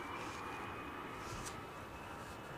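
An airliner takes off at Edinburgh Airport in windy weather, its jet roar heard faint and distant as a steady broadband wash with a thin whine, with no talk.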